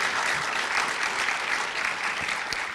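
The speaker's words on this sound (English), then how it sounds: "Give yourselves one more round of applause to all the students who passed your qualifying exams" Dense, sustained applause from a large audience at a graduate school recognition ceremony honoring students who passed their qualifying exams, steady and loud throughout without a break.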